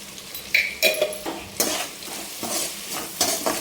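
Onions with salt and turmeric stirred in a pan, a series of sharp spoon scrapes and clinks against the metal over a low sizzle, close and irregularly spaced, no talking.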